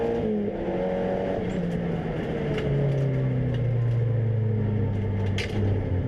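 Race car engine heard on board at the start at Donington Park, a loud sustained drone with gliding pitch as it accelerates through the gears, dominating throughout with no talk.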